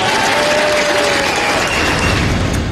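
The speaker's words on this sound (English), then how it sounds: "To the tune of lots of applause" Loud, dense applause from a large audience, steady clapping that fills the space evenly throughout without letting up.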